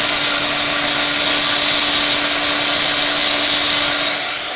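A heat tool melts embossing powder on a handmade card, its loud steady fan whine and airy roar running continuously before dropping off near the end.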